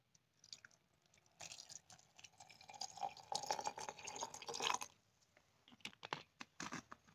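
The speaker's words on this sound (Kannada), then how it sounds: "ವಿನಿಗರ್ ಹಾಕೋಣ." Vinegar is poured into a bottle holding cut fruit peels, a quiet, close liquid stream lasting a few seconds, followed by scattered drips and small knocks.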